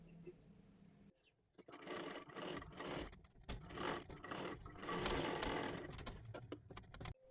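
Sewing machine stitching the front panel of a lehenga dress for a girl, made from a bordered Kathpadar sari; bursts of rapid mechanical needle chatter start after a quiet second and run near and steady, with brief pauses.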